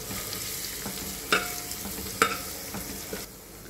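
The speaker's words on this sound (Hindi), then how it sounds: "लहसुन अदरक को इतनी देर फ्राई करना है कि इसका कच्चापन खत्म हो जाए।" Garlic and ginger paste frying in a pan for biryani, a steady close sizzle broken by a few sharp stirring scrapes, with no talking.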